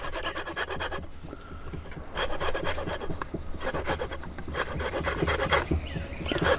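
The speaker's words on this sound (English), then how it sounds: "So I'll take my little microplane, get as much as this" Lemon zest grated on a microplane, fine scratchy rasping strokes in quick repeated runs, close and fairly steady with a short pause early on, no talking.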